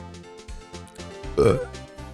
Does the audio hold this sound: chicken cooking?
no